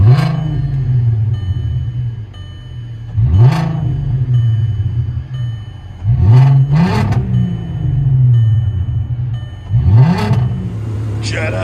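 A 2001 VW Jetta VR6 2.8L V6 with an Amazonian muffler, heard from inside the car: a deep idle rumble broken by four or five sharp throttle blips that rise and fall back.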